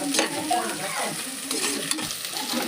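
Food sizzles in hot oil in a pan while frying for green chilli masala pulao, a spoon stirring through it, scraping and clinking now and then against the pan.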